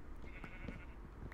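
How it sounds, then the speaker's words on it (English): A sheep bleats in Minecraft, a short wavering cry that repeats a couple of times over a faint background hum. "There's a sheep."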